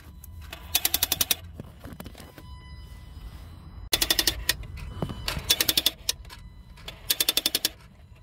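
Intake flap actuator on a Vauxhall Vivaro van with fault code P0638, clattering after the key is turned: repeated quick bursts of rapid mechanical clicking, each lasting about a second, over a low background hum.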